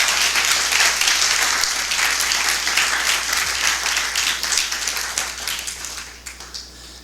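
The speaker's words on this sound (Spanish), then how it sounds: "Denle un fuerte aplauso al Señor." A church congregation bursts into loud, sustained applause, steady dense clapping for about six seconds before tapering off at the end.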